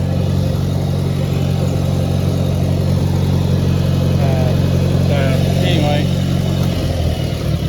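A Farmall 140 tractor engine runs steadily at a low, throbbing idle, loud and close, with someone talking briefly over it.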